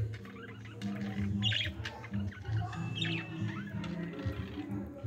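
Parakeets in an aviary chirp and squawk in scattered bursts, moderately close over a dense background hum, with no clear speech.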